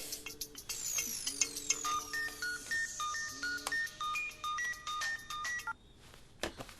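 A mobile phone ringtone plays a bright, repeating electronic melody of short beeping notes over several seconds in a Hindi film scene, fairly loud and steady with no talking.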